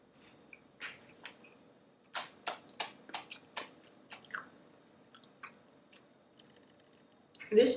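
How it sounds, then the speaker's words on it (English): Someone eating a vegan almond butter fudge brownie, with a series of close, soft, sticky chewing and biting clicks in an irregular rhythm and a louder smack at the end. "Time to eat the brownie."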